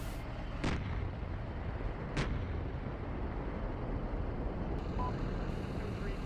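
Gunfire in the tank simulator Steel Beasts Pro, two sharp distant-sounding shots early on over a constant rumbling engine and battlefield drone that continues steadily to the end.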